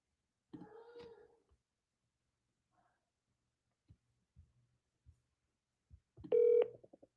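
Telephone dialing tones and line noises sound while calling a car dealer: a short burst of tone and clatter, then sparse soft clicks and taps, and finally a loud, clear sustained dial tone near the end, all in quiet surroundings.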